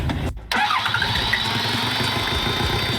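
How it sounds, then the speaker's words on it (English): A heavily battered Toyota Hilux, dropped, set on fire and crushed, cranks and fires up after a brief silence, then settles into a rough, steady running engine nearby. "Never before or since has one vehicle seen such punishment and still been able to fire up."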